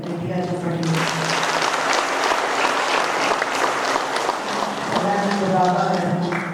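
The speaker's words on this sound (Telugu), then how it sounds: "బ్రహ్మశ్రీ పత్రిజీ గారికి గట్టిగా చప్పట్లు పెట్టుకుంటాం." An audience applauds at the fourth anniversary celebration of PSSM Navanathapuram in Armoor, a dense burst of clapping that rises after a voice and carries for several seconds before talk returns over it.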